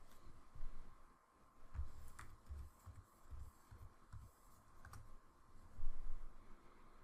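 A computer keyboard is typed on to enter a search keyword in a CRM panel, with a quiet run of close, uneven key clicks and taps over several seconds, with no talking.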